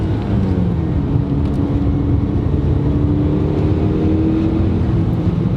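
Mitsubishi Eclipse GSX with a turbocharged 4G63 engine pulling hard in second gear, a loud steady drone of engine and intake with a rising harmonic tone, continuous from start to finish with no talking.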